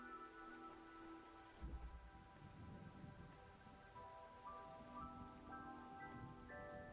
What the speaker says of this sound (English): Oh, it's rainy over there.